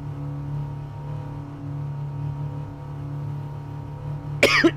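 A short burst of a couple of harsh coughs near the end, loud and close, over a steady humming background drone.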